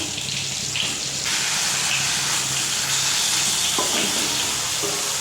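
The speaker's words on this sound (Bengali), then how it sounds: "এই দেখো মাছগুলো প্রথমে একটু নেড়ে দিতে হবে ভালো করে।" Fish stirred and frying in a kadai wok, a steady loud sizzle and hiss with faint scraping movements from the stirring.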